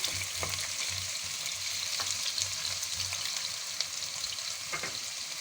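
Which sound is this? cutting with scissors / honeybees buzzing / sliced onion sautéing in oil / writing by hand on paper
sliced onion sautéing in oil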